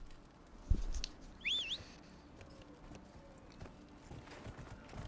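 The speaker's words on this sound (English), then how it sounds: "from here I can call my horse" A few soft hoof clops as a horse is called in Dragon Age: Inquisition, with a brief high chirping whistle and faint background ambience.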